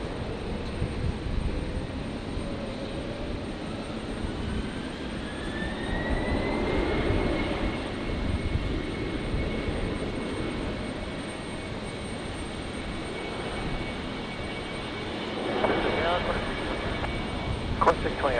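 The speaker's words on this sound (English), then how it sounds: "Qantas 1911, runway 19 left, please take off." A Qantas jet rolls for takeoff from runway 19 left at Brisbane, a steady distant jet rumble with a rising engine whine, heard under talk and radio chatter.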